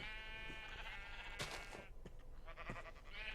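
Sheep in the Minecraft video game bleat several times in quick succession, short wavering calls close and clear with no talk over them.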